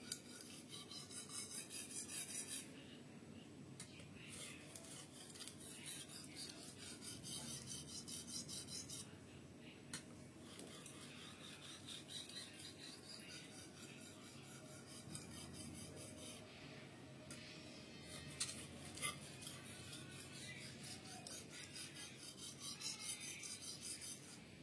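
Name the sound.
sharpening a short knife on a fine whetstone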